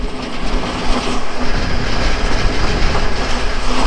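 A local train pulling into platform one at Baro Khata railway station rumbles loudly and steadily with rhythmic clickety-clack of wheels on the rails, close by, no voices.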